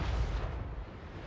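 A cannon blast in a video game siege battle: a single deep, rumbling boom that fades over about a second, moderately loud and without talk.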